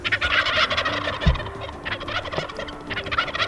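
Wild turkeys gobble out in the open during a hunt, their repeated rattling calls carrying at moderate distance over faint outdoor ambience.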